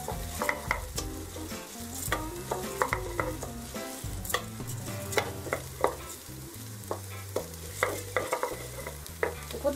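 Rice toasting in a pan with spring onions, stirred continuously: busy clinking and scraping of the utensil over a steady sizzle, close and fairly quiet, no talking.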